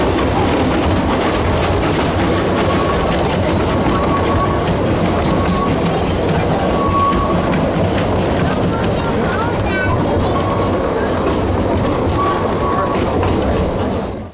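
A small steam locomotive rumbles and clatters loudly on the rails, laboring steadily up a steep grade at Hesston Steam Museum, with a voice talking over the noise.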